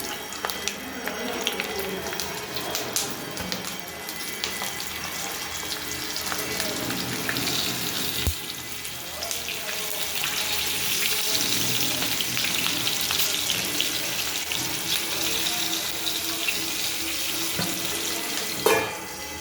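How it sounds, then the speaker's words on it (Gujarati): Green chillies sizzle steadily in hot oil for stuffed chilli, a continuous bright frying hiss that swells slightly midway, with a brief clatter near the end. "હવે મરચાં નાખી દેવાના."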